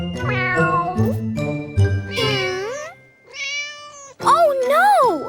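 A cartoon mother cat meows in several drawn-out, bending calls with a light tinkling chime between them, loud and close.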